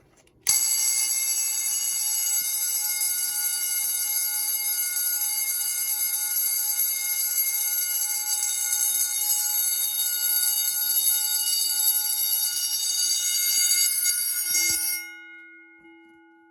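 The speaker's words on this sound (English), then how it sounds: "the last bell of the day, the Fire-Lite BD 110" A Fire-Lite BD 110 fire alarm bell rings loud and close in one continuous metallic clangour for about fourteen seconds, then stops and fades with a brief ringing decay.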